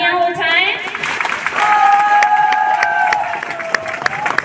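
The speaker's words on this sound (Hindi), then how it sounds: "इनके लिए जोरदार तालियां हो जाएं।" Loud applause and cheering from a crowd at a youth seminar in a parish in Charbandia, mixed with shouts and whistle-like tones, with voices mingling in the noise throughout.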